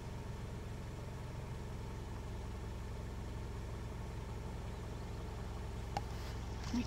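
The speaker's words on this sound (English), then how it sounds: "Let me turn off my car" A parked car's engine idling during roadside birdwatching, a low steady rumble with a faint regular pulse, quiet and unchanging, with a brief click near the end.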